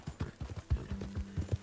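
A horse gallops cross-country in the video game Red Dead Redemption II, its hooves drumming in a quick, steady clip-clop rhythm, close and fairly quiet, with no talking over it.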